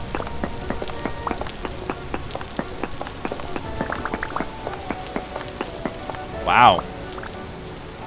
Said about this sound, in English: I think it might be the rain that's causing all this.